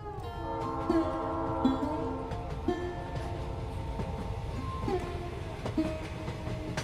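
A moving train rumbles steadily along the rails, with a sustained horn or whistle tone and periodic clanks and rattles from the carriages. Loud and continuous, heard from close by, with no voices.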